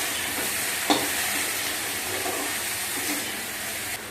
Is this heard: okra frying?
yes